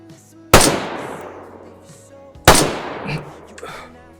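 Two sharp, loud gunshots come from a gun in the video game Screaming Dayz, about two seconds apart. Each crack is close and echoes away into a long decaying tail over quiet background ambience.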